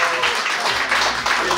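A brief burst of loud audience applause at a salon opening event in Dagestan, with dense overlapping clapping filling the whole moment.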